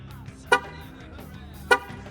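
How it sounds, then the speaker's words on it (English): Two short horn toots from a Dodge Durango on remote start, about a second apart, with a low engine hum and faint background murmur throughout. "You get the 2 honks and then it starts up."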